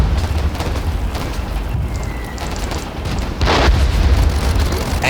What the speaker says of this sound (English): Anti-tank rounds.